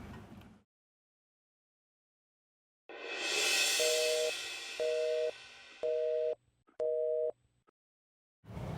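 An outgoing mobile phone call goes unanswered, giving four evenly spaced electronic tone pulses over a faint hiss after a stretch of near silence. No one speaks.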